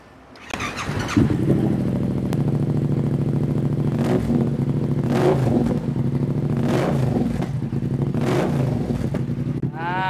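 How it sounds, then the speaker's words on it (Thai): A 2017 naked motorcycle revving its exhaust, a loud, close engine idle broken by several sharp throttle blips that rise and fall, with a brief squeal near the end. "เดี๋ยวเรามาฟังเสียงท่อคันนี้หน่อยดีกว่า"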